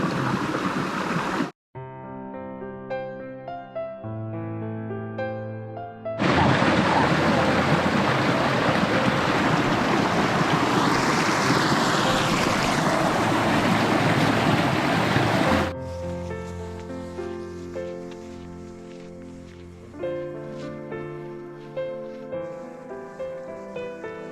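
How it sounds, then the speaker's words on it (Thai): Rushing water of the Tham So Nuea waterfall in Phu Kradueng National Park, Thailand, a loud steady broadband roar that fills the middle of the clip, framed by quieter tonal passages before and after. "เป็นน้ำตก ถ้ำสอเหนือ"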